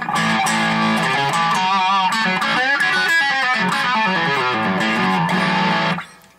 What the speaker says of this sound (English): a humbucker is going to give it that fat, gainy kind of a sound